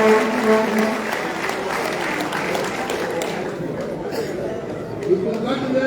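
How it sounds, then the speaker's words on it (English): Audience applause in a hall during Liberian President George Weah's State of the Nation address, a burst of clapping with crowd murmur that thins and fades after a few seconds. "Please give a round of applause."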